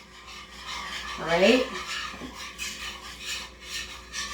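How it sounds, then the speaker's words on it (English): Butter and flour being whisked together in a pan for a roux, a soft scraping rasp of the whisk against the pan that swells briefly and then continues faintly, with a short spoken phrase near the start. "now I'm just gonna add my 2 tablespoons of flour. And you start to whisk it."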